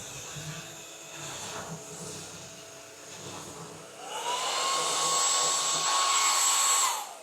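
Cordless stick vacuum cleaner with a green LED headlight that switches on partway through, whirring up to a steady high-pitched motor whine that holds loudly until it cuts off at the end.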